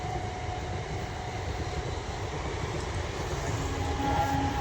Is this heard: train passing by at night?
yes